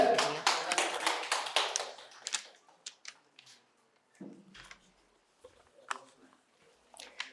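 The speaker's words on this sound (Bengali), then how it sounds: "জোরে হাত তালি হয়ে একবার" An audience claps at a quiz competition prize-giving at Santiniketan Medical College and Hospital: a dense burst of applause for about two seconds, then thinning to scattered, uneven claps and taps.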